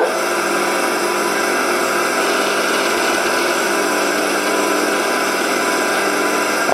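Old wooden wood lathe driven by a 1500 RPM motor, running steadily with a continuous loud whirring hum and mechanical rattle throughout, close up and without talk.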